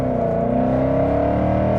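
A 2012 Ford Mustang Boss 302 V8 engine drones loud and steady from inside the moving car, a sustained low, throaty exhaust rumble that holds its pitch with no pauses.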